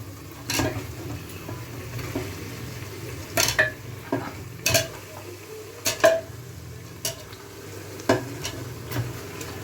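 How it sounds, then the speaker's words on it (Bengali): Beef trotters go into spices frying in oil for nehari, with a steady sizzle under repeated sharp knocks and scrapes as pieces drop into the pot. "এবার আমি পাগুলো দিয়ে দেবো।"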